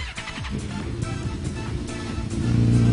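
A Suzuki 1000cc motorcycle engine runs close by, idling with a throaty rumble before revving up louder near the end.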